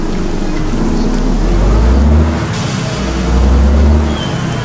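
Soft rain falls during an evening departure from the İzmir bus terminal aboard a Setra coach, with a steady low engine rumble that swells twice and a continuous wash of noise, no talking.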